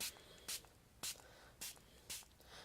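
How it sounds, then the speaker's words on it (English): Five short hissing spritzes from a water spray bottle misting artwork come at an even rhythm about half a second apart, close and fairly quiet. "I've got my spritzer bottle with water, and I'm just going to give that a light spray."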